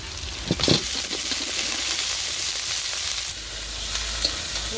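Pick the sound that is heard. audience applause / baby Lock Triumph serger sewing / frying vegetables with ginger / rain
frying vegetables with ginger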